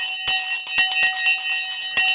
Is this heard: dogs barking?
no